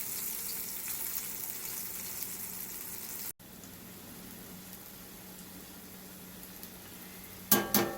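Morel mushrooms fry gently in a skillet over low heat, a soft, steady sizzle that cuts out briefly partway through, then resumes before a couple of sharp clatters near the end.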